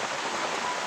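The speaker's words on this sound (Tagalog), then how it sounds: "And maulan sa labas" Steady rain falls outside, a dense, even hiss without breaks or voices.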